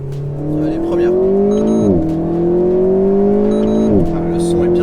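An Alpine A110S engine accelerates uphill in first gear, its loud rising tone dipping sharply twice as the revs break, with a voice over the engine.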